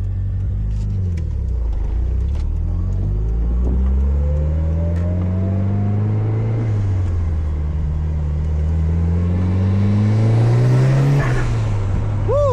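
Mitsubishi Evo 9 MR engine revving and pulling hard under boost from inside the car, with rising and falling engine pitch across several gear pulls and a steady loud rumble throughout.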